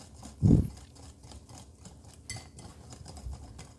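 A whisk stirs cake batter in a bowl, opening with one louder knock against the side, then a soft, steady scraping and swishing that carries on quietly.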